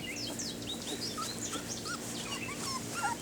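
A litter of puppies whimpers and squeals in quick, high, overlapping cries, close and continuous, with a low steady hum underneath.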